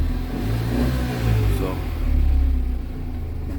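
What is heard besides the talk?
2012 Tata Nano CX petrol car engine running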